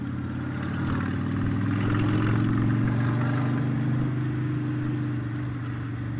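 Honda Shadow Aero 750 motorcycle engine while riding, a steady low mid-pitched drone that swells slightly and holds at a constant loud level throughout, with no talking.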